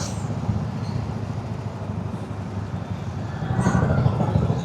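Steady road traffic in Mumbai near Kurla heard while riding a motorcycle, a continuous low rumble of engines and wind with a brief swell of passing vehicles, no speech.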